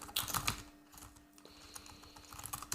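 Fingers type on a computer keyboard while porting the Bash shell, a close, irregular patter of key clicks in uneven bursts with no talk.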